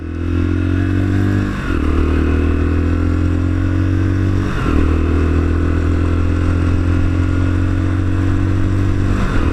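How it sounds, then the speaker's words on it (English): A Lexmoto Assault motorcycle rides steadily with a loud, constant engine drone, dipping briefly twice as gears shift before pulling on again; no voices. "I have been enlisted today to take this bike for its MOT. That's why I'm riding it."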